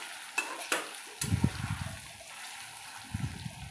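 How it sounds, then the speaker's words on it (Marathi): Masala-stuffed eggplants are sautéed in a pan, with a few sharp utensil clacks and a bump, then a low, steady sizzle and stirring scrape close by and fairly quiet. "छान असं परतून घेणार आहे"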